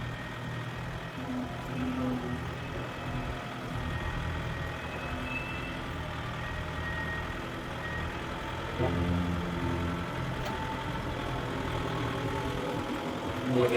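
A Kubota MU5502 tractor pulls a water tank, its diesel engine a steady, droning rumble under load that holds even throughout and rises slightly near the end, heard close with faint voices in the background.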